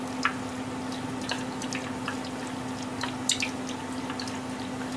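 Water bubbles and pops at a gentle simmer in a pot of crab-leg broth, with scattered small bursts over a steady low hum.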